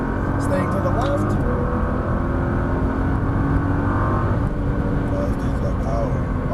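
A Nissan GT-R engine accelerates hard and upshifts on a track in Las Vegas, a loud, sustained in-car roar whose pitch climbs through the gears.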